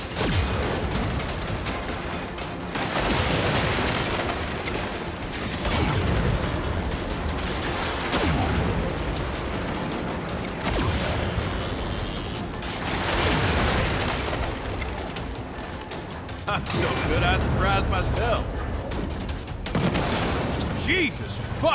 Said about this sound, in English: I'm seeing explosions all over.